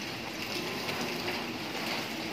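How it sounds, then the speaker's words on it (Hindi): Rain during a storm pours steadily in a village setting, a broad continuous hiss of even loudness with no voices. "बारिश तूफान"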